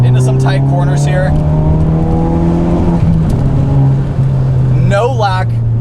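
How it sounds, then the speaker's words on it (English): Tuned 450bhp Ford Focus RS driven flat out through a tight corner at about 65 mph, a loud steady engine drone holding high revs with a rising tone, heard from inside the cabin. "we were going flat out through a pretty tight corner at around 65 miles an hour"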